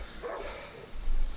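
A dog in the game Darkwood gives a brief, muffled bark or two against a low ambient rumble.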